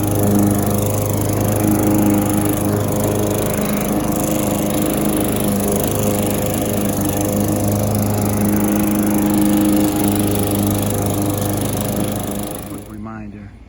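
A Brute lawn mower runs steadily close by, a constant buzzing engine drone that fades out at the very end.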